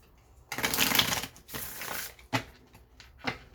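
Close-up shuffling of a tarot deck: a long riffling burst followed by a few shorter riffles and soft taps, with no talking.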